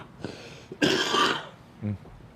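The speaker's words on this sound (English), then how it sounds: "I notice you're coughing." A few rough coughs and throat-clearing bursts, close and fairly loud, separated by short pauses.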